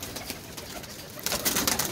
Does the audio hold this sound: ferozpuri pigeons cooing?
yes